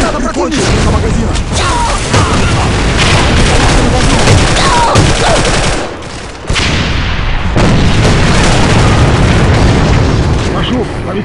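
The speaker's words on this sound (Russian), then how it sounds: "Бросаю гранату!" Gunfire and explosions from combat in the online shooter Alliance of Valiant Arms, a dense continuous barrage of booms and shots with a short lull midway, with game voices calling out over the noise.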